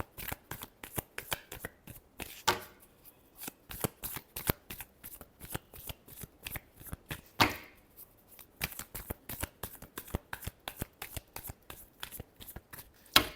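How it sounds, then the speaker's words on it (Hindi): Tarot cards are shuffled by hand in quick, crisp riffling bursts with short pauses between, close and fairly quiet. "Last shuffle."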